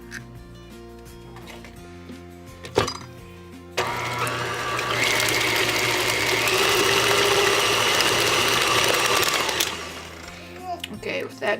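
A stand mixer beating two eggs into granola cookie dough gives a loud, steady motor whir with rattling for several seconds. Quieter handling noises and a clunk come before it, and it stops abruptly near the end.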